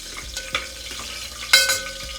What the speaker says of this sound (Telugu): చూడండి చిట్టపట్లు ఆడుతున్నాయి